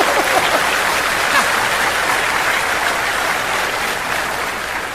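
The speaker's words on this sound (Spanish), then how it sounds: "denles un aplauso a esa chilanguiza" A church congregation applauding steadily, a dense, loud wash of many hands clapping that holds evenly throughout, with faint crowd voices mixed in.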